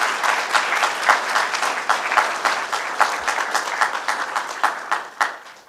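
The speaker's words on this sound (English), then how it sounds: "Let's give them a round of applause." A government event audience gives a round of applause: a close, loud burst of many hands clapping, with distinct individual claps standing out, steady for several seconds and then beginning to fade.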